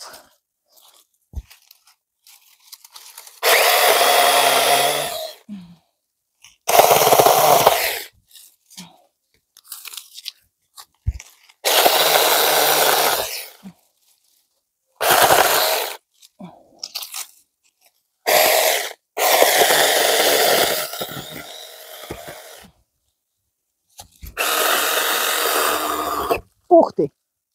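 A saw cutting through branches in a garden, several loud rasping bursts of a few seconds each separated by pauses, with someone speaking at times.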